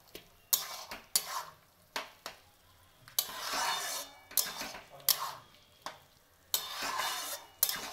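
A metal spatula repeatedly scrapes and stirs brinjal kabab in a frying pan, with sharp intermittent clanks and scrapes over a soft sizzle, close up and without talk.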